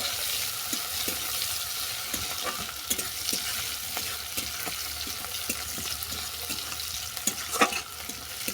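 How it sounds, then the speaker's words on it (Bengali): Chopped onion, added after garlic and five-spice seeds, sizzles steadily in a pan with regular light stirring taps. The sound is moderately loud and there is no speech. "দিয়ে দিলাম কুচানো পেঁয়াজ"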